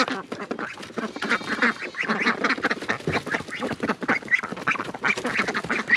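A group of ducks quack loudly and continuously, overlapping calls close by.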